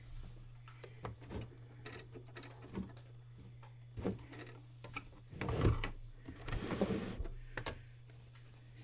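A sewing machine stitches two fabric pieces together into a back pocket, running in short mechanical bursts and clicks with quiet pauses between, the longest run near the end.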